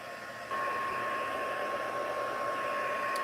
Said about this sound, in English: I'm heating the back of my card to dry the glue without blowing my gilding flakes all over the place